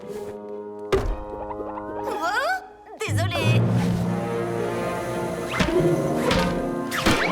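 Ball striking hard in a French Polly Pocket cartoon, several sharp thunks and whacks amid cartoon effects and background music, with a brief spoken word in between.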